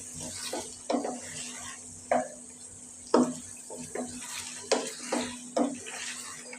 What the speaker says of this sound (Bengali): আবার মাংসটা একটু নেড়ে দিব